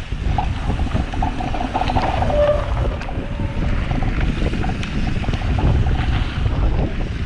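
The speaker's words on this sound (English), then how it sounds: "It's a bit windy in here." Strong wind gusts across a forest mountain bike trail, buffeting the microphone with a constant low roar and rushing noise, loud and unbroken, no voices.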